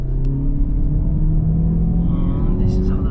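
A Mazda CX-30 Takami accelerating, a steady close engine rumble and rising whir from inside the cabin, continuous for a few seconds with faint higher noises near the end.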